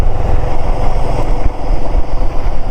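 A Royal Enfield motorcycle cruising along a highway through forest in the evening, its engine a steady, loud low throb with continuous wind and road rumble throughout.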